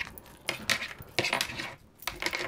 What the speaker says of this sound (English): I'm going to shuffle my regular angel cards